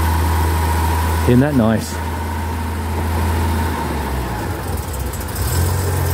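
A 1979 Ford Cortina S with a manual choke conversion idles quietly and steadily, a low smooth hum running throughout, while someone talks briefly over it.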